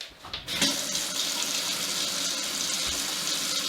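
Drinking water running from a household tap, starting abruptly after a brief quiet moment and then gushing in a steady, loud, close stream with no one speaking.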